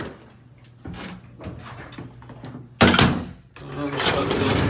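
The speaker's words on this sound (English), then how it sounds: "Shut the door." The door of a Savaria residential elevator is shut, a sharp close thunk followed by a sliding rumble, with a voice speaking over and around it.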